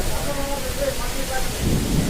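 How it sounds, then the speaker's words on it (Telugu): Heavy rain and gusting wind in a storm make a dense, continuous rushing roar that stays loud throughout and swells slightly near the end. "వర్షం మామూలు వర్షంగా లేదు, తుఫాన్ అండి"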